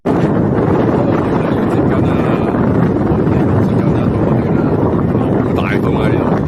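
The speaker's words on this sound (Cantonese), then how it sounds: "好大風啊！" Strong wind buffets a boat on the Nile at the Esna lock, a loud, constant roaring rush of wind across the microphone from start to finish, with faint voices barely audible underneath.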